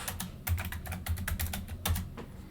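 Computer keyboard typing a Cisco router OSPF configuration command, a quick run of close, crisp keystrokes in irregular bursts with a couple of heavier key presses, no voice.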